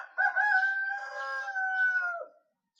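A big Brahma-cross rooster gives one long, clear crow lasting about two seconds, close and alone, trailing off into silence.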